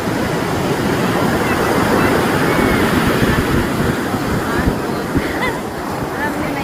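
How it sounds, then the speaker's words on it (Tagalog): Ocean surf rolls onto the beach at La Union, a steady, loud, broadband wash of breaking waves with wind buffeting the microphone throughout. "Ang laki ng alon"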